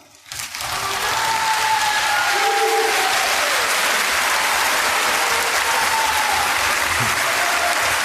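Audience applause during a Korean religious address: clapping rises quickly from near silence within the first second, then continues as a full, even, sustained wash of crowd applause.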